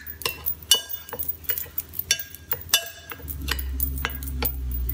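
A spoon stirs milk and sugar in a glass, clinking repeatedly against the sides in an irregular rhythm, close and moderately loud, with a low rumble building toward the end.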